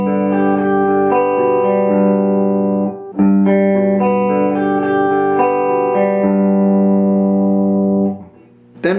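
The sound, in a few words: guitar string skipping exercise with two-string jumps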